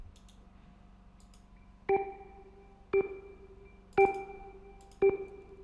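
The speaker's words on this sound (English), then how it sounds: "So this is an organ, Hammond jazz organ." A Hammond jazz organ plays an amapiano vamp, four short stabbed chords in a steady rhythm after a quiet opening, each chord ringing briefly before the next.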